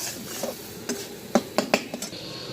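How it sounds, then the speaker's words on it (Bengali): A spatula stirs spice paste frying in a wok for chicken curry, with irregular sharp metal clinks and scrapes over a soft background sizzle, close by. "এই যে আমার মশলা কষানো চলছে"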